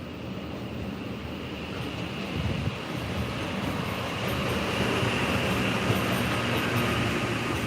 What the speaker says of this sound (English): we've got a train coming through